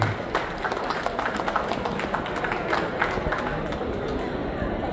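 A hall audience applauds Mydin, the supermarket chain, at a formal event. Steady, moderately loud clapping runs through the whole stretch, with some murmuring voices underneath.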